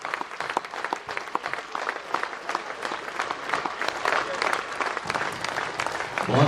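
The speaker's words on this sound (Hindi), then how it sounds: "30 सेकंड तक खड़े होकर ताली बजाएंगे" A school annual day audience stands and claps for the Sir Syed Memorial School's 32 years, dense sustained applause from a large crowd that swells toward the end.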